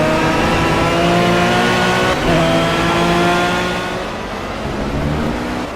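A crowded field of race cars runs a track in the video game Project CARS on Xbox One, producing a loud, dense blend of engine drones and revving that softens slightly toward the end, with no voices.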